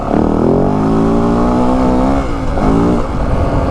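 A 2025 Yamaha WR 450F dirt bike engine revs hard and loud, climbing in pitch, dipping briefly, then surging again close up.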